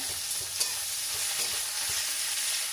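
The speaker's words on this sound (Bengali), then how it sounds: "কুচি করা পেঁয়াজ দিয়ে দেবো তেলের মধ্যে" Steady bright sizzle of chopped onions frying in hot oil, close up, with a few stirring scrapes and no talking.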